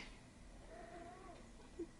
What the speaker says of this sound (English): Sorry about the mouthy cat.